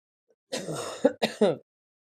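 A person clears their throat in a few short, rough bursts, close and fairly loud, then silence.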